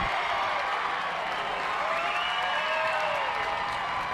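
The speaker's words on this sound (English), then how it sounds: "that one gets the crowd on their feet here at Veterans Memorial Park" Softball crowd at Veterans Memorial Park cheering and applauding steadily during a CAA championship game between Hofstra and JMU, a dense continuous wash of clapping and shouts with whoops rising over it.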